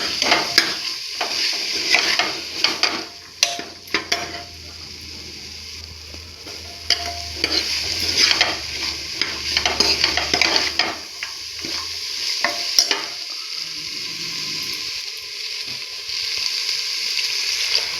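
Mixed vegetables with paneer and chutney are stir-fried in a pan, a steady sizzle broken by repeated close scrapes and clinks of a spoon against the metal, continuing throughout with no talking.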